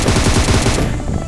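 Rapid automatic gunfire in a mobile battle royale game, a loud, dense burst of shots close up that cuts off after about a second.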